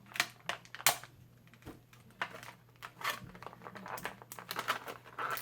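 Close, quiet snipping and crinkling of plastic packaging as an action figure is cut free from its card and tray, in irregular clicks and short crackles.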